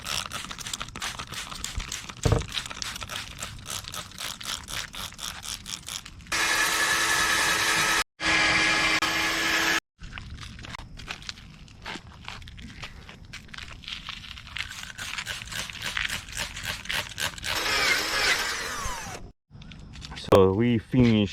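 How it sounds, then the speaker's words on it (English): A headlight on a 15-year-old car being wet-sanded with an 800 grit sanding disc on a power tool, with long stretches of loud steady whirring and rasping, interrupted by pauses and someone talking. "So we finished sanding the right side using 800 grit sanding disc"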